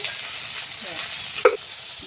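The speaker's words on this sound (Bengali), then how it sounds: "এবার আমরা গরম তেলে ভেন্ডিটা দিয়ে দিচ্ছি" Okra sizzling in hot oil with a light steady frying hiss throughout, joined by a sharp clack of a utensil near the end.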